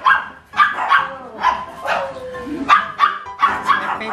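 A dog barks repeatedly in short, close yips and bow-wows, some mixed with whimpering, in a quick irregular series.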